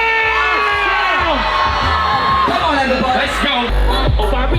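A crowd at a vape event yells and cheers loudly in a sustained burst of whoops and shouts, with excited voices overlapping throughout.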